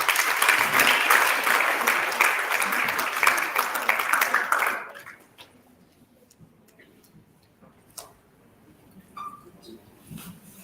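An audience at a Love Your Menses Nigeria dignity event claps warmly for a woman named Grace, a dense burst of applause that stops abruptly after about five seconds, leaving a quiet room with scattered small sounds.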